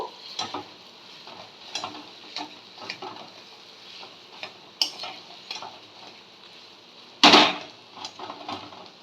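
Mashed boiled potato stirred into frying masala in a pan for alur chop, with a faint sizzle under repeated soft scraping taps of a spatula and one louder clatter near the end.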